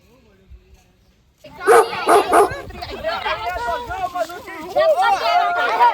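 A female dog barks and yips in quick, loud bursts close by, first a sharp cluster of barks and then a run of excited whimpering yelps and barks, with people's voices mixed in around it.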